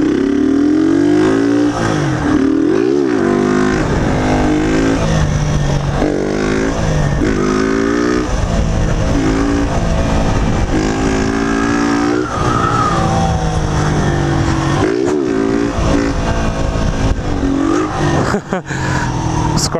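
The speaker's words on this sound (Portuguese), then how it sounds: "Quando a moto boiar na embreagem, você tem que domar ela no freio e não deixar ela voltar" Motorcycle engine revving hard with rising and falling pitch and tire skidding on street, loud and continuous throughout with brief throttle bursts.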